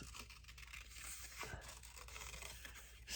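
Scissors snipping through card stock to cut out a shape for a handmade card, soft close crisp cuts and rustling paper, quiet with no talking.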